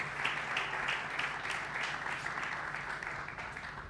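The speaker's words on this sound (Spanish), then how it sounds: "así les damos un aplauso" Applause from a conference audience at a provincial business and innovation event in Misiones, Argentina, a steady wash of many hands clapping for about four seconds with no break, fairly distant in a large hall.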